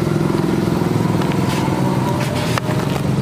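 A motorcycle idles close by at a village cattle market in Sialkot, its steady throbbing engine rumble with light rattles running throughout.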